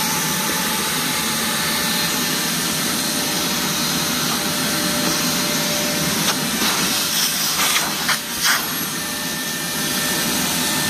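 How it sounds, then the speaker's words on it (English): A Hart 6-gallon stainless steel 5HP wet/dry shop vacuum roars steadily and close, sucking up wood dust. The hiss holds without a break, with brief rattling pickups near the end. "want to show you it cleaning up some wood dust"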